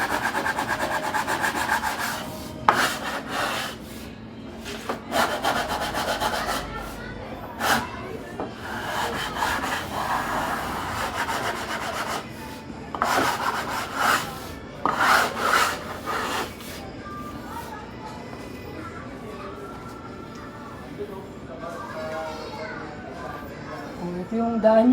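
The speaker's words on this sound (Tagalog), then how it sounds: "So, kikil lang yung ginamit natin dyan." Wood edging worked with a hand file, repeated rasping strokes in bursts with pauses, close and fairly loud, while someone talks at intervals and faint background activity continues.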